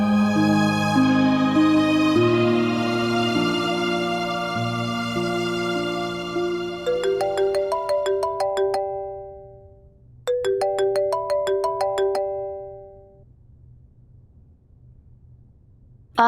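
A mobile phone plays a melodic ringtone, first as a sustained synth chord passage, then as repeated plucked note patterns in two bursts separated by a short pause, loud and close with no speech.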